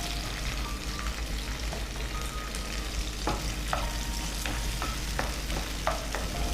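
Cashew nuts sizzle and crackle in hot oil in a pan, a steady frying hiss with sharp pops and a few stirring scrapes, close and continuous with no talk.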